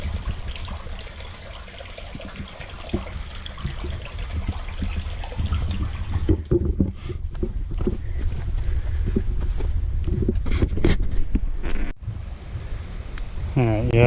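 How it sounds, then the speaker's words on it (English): Running water flowing through rocks on a trail near Cowboy Falls in the Wichita Mountains, a steady rushing and trickling wash that grows louder midway, with brief handling noises and a short break near the end. "I hear running water, so I'm going to check it out."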